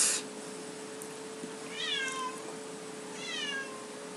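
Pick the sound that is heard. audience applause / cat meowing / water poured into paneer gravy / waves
cat meowing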